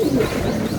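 Two blue bar pigeons, a short low cooing call close by over a dull background.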